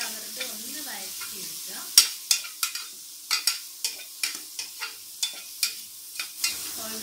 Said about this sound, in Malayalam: ഉള്ളി, പയറ്, ക്യാരറ്റ് ഇതെല്ലാം കൂടി നമുക്കൊന്ന് വഴറ്റി എടുക്കാം.